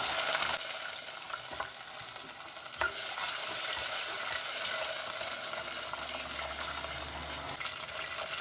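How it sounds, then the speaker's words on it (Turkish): Butter being stirred briskly into melted sugar in a pan for trileçe caramel, a steady wet scraping and sizzling texture with a brief louder stir near the middle, close and continuous with no talk. "Şimdi içerisine bir yemek kaşığı tereyağı atıyorum. Hızlıca güzelce karıştırıyorum."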